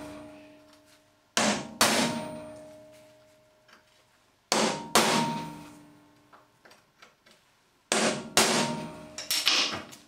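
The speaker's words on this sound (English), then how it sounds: "You can then proceed to center punch those using a proper center punch." A hammer strikes a center punch into marked metal stock in a workshop, three sharp metallic blows spaced several seconds apart, each ringing briefly, with a few lighter taps between them; no talking.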